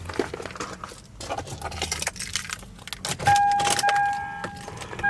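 Lexus IS300 turn signal ticking after a Diode Dynamics Smart Tap hyperflash fix, a faint relay clicking inside the cabin under rustling, jangling keys and handling noise, with a thin electronic whine near the end.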